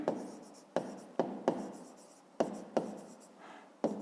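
A pen scratches across paper while a fifth-grade math exercise is written out, in quick separate strokes and taps arriving in an irregular rhythm, close and quiet, with no talking.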